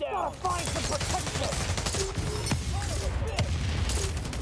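Enemy gunfire in The Division mobile game, repeated sharp shots and crackling impacts in a steady firefight, with someone talking over the shooting.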